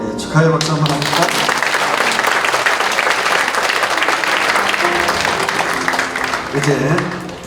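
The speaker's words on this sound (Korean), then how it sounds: "축하의 박수 한번 합니까?" A church congregation at a Korean ordination thanksgiving service breaks into loud, sustained applause that fills the hall, with a voice speaking briefly before and after it.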